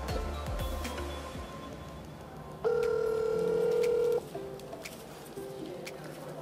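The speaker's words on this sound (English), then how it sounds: "Can I call this person?" A telephone dialing a call: a few faint button tones, then a loud steady ringback tone lasting about a second and a half, followed by quieter tones over a low background hum.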